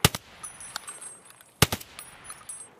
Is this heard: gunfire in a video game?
yes